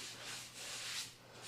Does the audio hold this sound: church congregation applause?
no